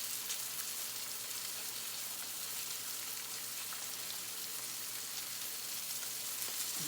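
Whiting fish pan frying in hot oil, giving a steady, unbroken sizzle that holds at an even level throughout with no voices.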